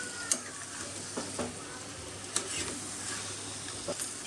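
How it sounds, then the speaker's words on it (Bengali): Chicken and rice are stirred together in a frying pan: a soft, low sizzle under several sharp scrapes and knocks of a spoon against the pan, close but quiet. "এবার এটাকে দুটোকে একসাথে একটু নাড়িয়ে নেব।"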